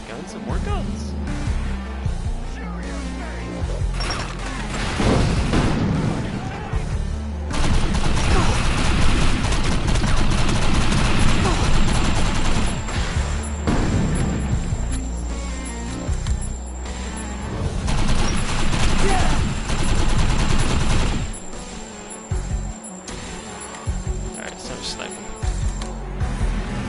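Gunfire in the video game Defiance 2050: repeated volleys and rapid bursts of shots with booming impacts, rising and falling in loud waves, with voices talking underneath.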